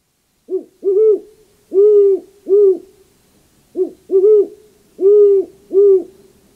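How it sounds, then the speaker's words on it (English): A great horned owl hoots in two matching series of four low, soft notes, clear and close against silence. "great horned owls. They make this beautiful hoot that's equal parts spooky and soothing."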